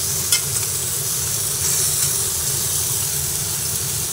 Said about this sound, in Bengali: আবার একটু ভালোভাবে নেড়ে চেড়ে ভেজে নিচ্ছি